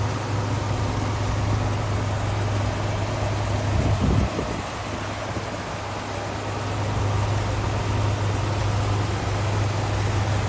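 A 2021 Chevy Silverado 1500 Regular Cab WT engine idles steadily with a low, even hum, clean and quiet, holding a constant drone throughout with a brief disturbance midway.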